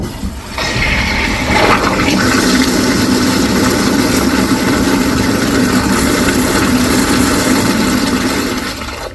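A second-generation Kohler Derry blowout urinal flushes with a loud, close rush of water that surges in after a brief start and roars steadily for about nine seconds before beginning to ease.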